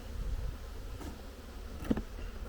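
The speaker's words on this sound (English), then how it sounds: "it's full of bees" Honeybees drone in a crowded hive after heavy smoking, a dense steady buzz close by with a brief louder flare near the end and no talking.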